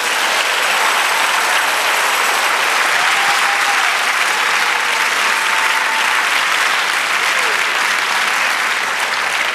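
Congregation applauding at a Spanish-language church service, a dense, steady wash of clapping that stays loud and even from start to finish.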